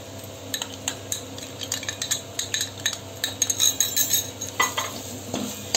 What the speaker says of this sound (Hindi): अब देखिए ये सब प्याज के साथ अच्छे से भून रहा है।